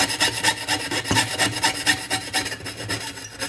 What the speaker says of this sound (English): Now I'll set the spatula flat onto the surface here, and I'll just begin sawing toward one of the edges here.